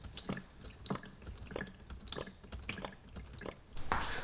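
Used CVT fluid drains from a 2013–2017 Honda Accord transmission in irregular wet drips and splatters, about six distinct drops, close and quiet, then a brief louder gush at the end.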